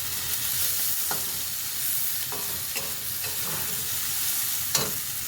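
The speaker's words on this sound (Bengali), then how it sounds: "তো দেখুন আমার কিছুটা ভাজা হয়ে গেছে।" Sliced pointed gourd (potol) fries in a pan with a steady sizzle, broken by several sharp scrapes and clinks of a spatula stirring it, with no talk.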